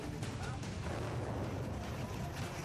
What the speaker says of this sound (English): An aging warship goes down with a bang off the Florida coast.